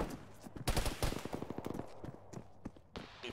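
Gunfire in an Arma ShackTac squad battle comes as sharp, uneven shots and short bursts, some close and loud and others more distant, with no talking.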